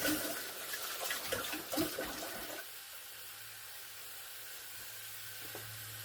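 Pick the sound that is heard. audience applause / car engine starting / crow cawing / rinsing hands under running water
rinsing hands under running water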